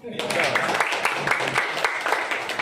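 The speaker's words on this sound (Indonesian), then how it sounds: "Tepuk tangan dong." Audience clapping at a volunteer rally for a 2024 presidential candidate, a steady burst of applause filling the moment while voices from the crowd carry over it.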